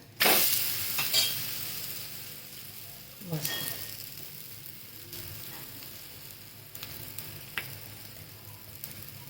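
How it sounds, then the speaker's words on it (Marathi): Dahi dhapate, Maharashtrian flatbreads, fry in oil with a constant crackling sizzle broken by a few sharp scraping knocks as they are flipped, the first loudest, then quieter spatula touches. "तेल सोडून घ्यायचं असं साईडने वरून पण तेल सोडायचं बोलमध्ये पलटून घ्यायचं"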